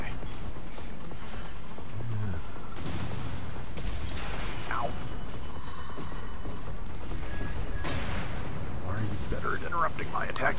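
A big missile strikes the player's mech in Armored Core VI, heavy booming blasts and mechanical roar layered over constant game noise, with a voice talking over it.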